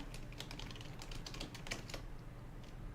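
Rapid, irregular clicking of fingers typing on a computer keyboard while entering a website address, steady and close but quiet, with no voices.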